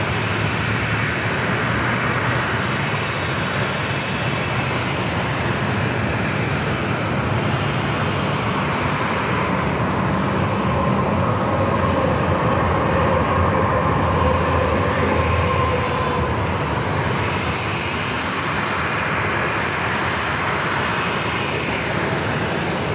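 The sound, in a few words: Southwest airliner taking off, San Diego runway 27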